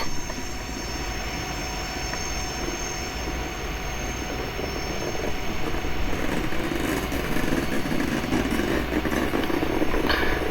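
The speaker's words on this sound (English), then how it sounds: "Catie, Kirsten, and Alexia steamed by with their freight train" A long, heavily loaded freight train rolls past in a steady, loud rumble of wheels and cars that swells slightly in the second half, with faint high squeals along the rails.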